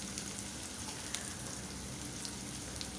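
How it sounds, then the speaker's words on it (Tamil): Onions sautéing in a pan for a Tamil capsicum stir-fry, a steady soft sizzle and crackle of frying running evenly throughout with a few faint ticks, no talking. "வெங்காயம் சேர்த்து நல்லா வதக்கணும்"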